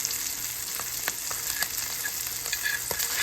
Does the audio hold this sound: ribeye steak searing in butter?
yes